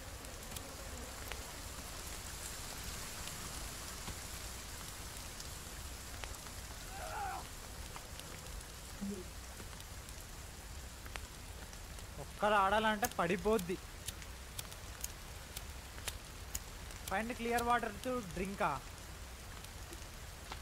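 Rain patters steadily in the video game The Forest, a faint, even hiss running throughout while someone talks briefly a couple of times over it.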